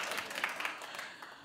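Clapping from a television talk show studio audience, a scattered burst of hands coming through faintly at a distance across a short stretch with no voices over it.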